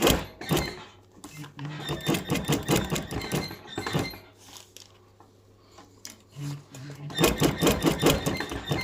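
A sewing machine stitches a fabric waistband in rapid bursts of mechanical whirring, stopping and starting, with someone talking during the pauses.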